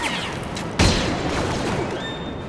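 Rapid gunfire from a fast-firing blaster in Star Wars Battlefront, a loud burst opening the dense, continuous game soundscape, with sustained firing and explosions filling the mix.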